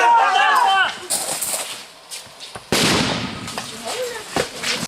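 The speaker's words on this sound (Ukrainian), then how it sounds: "Граната!" A shouted warning of "Grenade!" in Ukrainian during a training course is followed by two sharp grenade blasts, a loud bang near the start and a louder one about halfway, each trailing off into rumble.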